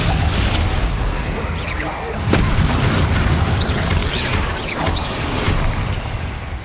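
Repeated spell blasts from Bombarda and Confringo in Hogwarts Legacy, a steady run of booming explosions with sharp pops and crackles layered throughout.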